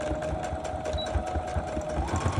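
A sewing machine runs a straight stitch across a fabric board cover, giving a steady rapid mechanical chatter with a constant whine that holds for the whole stretch at close range.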